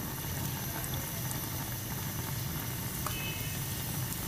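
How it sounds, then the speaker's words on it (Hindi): Chopped medium onion frying in hot oil, a steady dense sizzle and crackle that stays even and fairly loud throughout, close by, with no voices. "जैसे ही ये ऑयल गर्म होगा तो मैं इसके अंदर प्याज डालकर फ्राई करती हूँ।"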